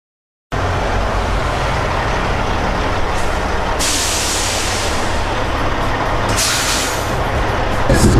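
A Freightliner truck idling loudly up close, its engine drone steady throughout while two sharp air brake hisses burst out, the second one shorter.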